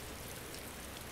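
Rain falling in a video game world, a dense even hiss of steady rainfall with no pauses or voices.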